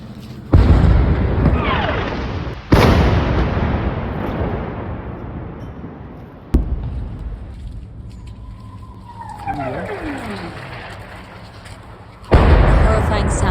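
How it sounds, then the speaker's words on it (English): Heavy explosions from constant bombardment boom one after another, several sharp loud blasts with long rumbling decays, and a descending whistle in between, distant and close impacts with no talk. "it's constant bombardment."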